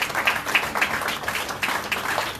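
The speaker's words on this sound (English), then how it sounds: "A round of applause." An audience at a Rosh Hashanah meditation seminar applauds with steady, moderately loud clapping from many hands, continuous and diffuse, lasting a couple of seconds.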